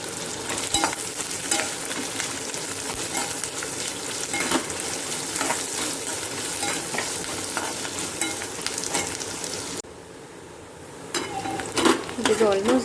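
Chopped onions, ginger and garlic fry in oil over a medium flame, sizzling steadily under repeated stirring and scraping. The sizzle stops abruptly near the end, then a few clatters of the pan follow.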